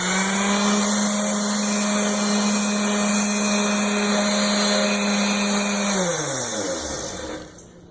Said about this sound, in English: So I've started sanding on it, and I want to sand it